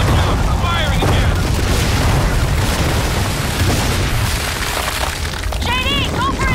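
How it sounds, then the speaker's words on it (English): Gunfire in the video game Gears of War 4, repeated heavy booming shots and bursts over chaotic battle noise, with voices talking over the action. "Watch out, I'm firing again!"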